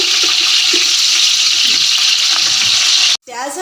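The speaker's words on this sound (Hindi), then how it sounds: "प्याज हमारी लाइट ब्राउन हो गई है। अब इसमें हम ये ऐड करेंगे लहसुन और अदरक का पेस्ट" Onions frying in a pot to a light brown for mutton mandi give a loud, steady sizzle that runs continuously, then cuts off abruptly near the end, followed by a brief voice.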